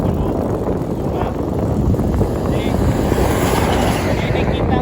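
Steady wind rushing past the microphone while cycling on the road to Badr, a loud continuous buffeting roar with no breaks.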